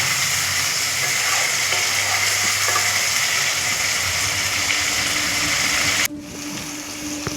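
Spice paste frying in oil in a pan for a jackfruit and chana dal curry, a loud continuous sizzle with stirring that drops suddenly near the end, no voices.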